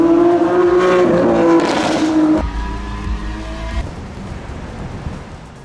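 A Lamborghini Sian FKP 37 Italian supercar engine revs loudly with a high, strained whine that sags gradually, then drops to a lower, rougher roar.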